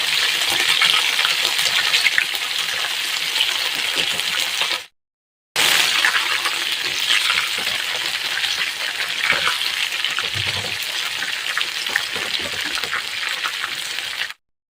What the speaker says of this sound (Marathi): तर आता मी पूर्ण सोयाबीन टिक्का भजी तळून घेणार आहे